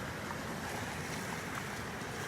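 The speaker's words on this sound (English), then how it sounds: "Today's waves actually 1 to 2 feet, and they're about 7 seconds apart." Small ocean surf of one to two feet breaking on a beach at sunrise: a steady, continuous roar of wash and wind noise, loud and unbroken, with no voices.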